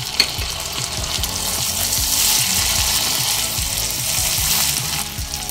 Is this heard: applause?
no